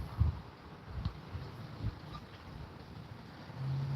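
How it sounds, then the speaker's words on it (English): Gusty outdoor wind buffets the microphone with low rumbling bursts, strongest near the start and swelling again toward the end, with no talking. "Because it's windy"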